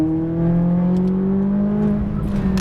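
Exotic sports car on a race track pulling hard under throttle, with steady rising engine harmonics at close range and no voices over it.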